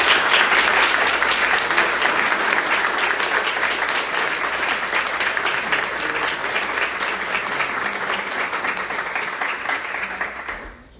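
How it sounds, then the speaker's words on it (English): Loud, sustained applause from a crowd at a college graduation ceremony, steady dense clapping that gradually thins and tapers off at the very end. "Let's give a round of applause for the graduates"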